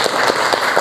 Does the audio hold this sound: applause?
yes